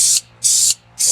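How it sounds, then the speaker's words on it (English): Three short, loud bursts of hissing aerosol spray paint coating a Mechagodzilla model kit black, each lasting about a quarter second with brief pauses between, close to the microphone. "I will spray this whole deal"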